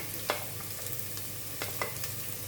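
Mustard seeds, chopped ginger and green chili fry in corn oil with a soft, steady sizzle, broken by a few sharp scrapes of a spoon stirring the pan.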